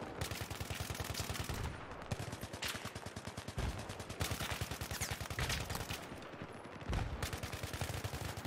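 Rapid automatic gunfire in Battlefield 3 rattles on steadily in long, dense bursts, loud and close, with only short gaps and no talk over it.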